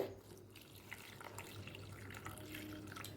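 Water poured from a measuring cup into a bowl of semolina idli batter, a steady, close trickling splash running about three seconds with no one talking over it.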